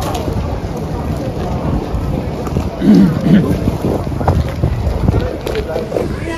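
A ferry boat bound for Vlieland, its low churning engine and water wash running throughout under heavy wind buffeting the microphone, with a brief louder surge midway.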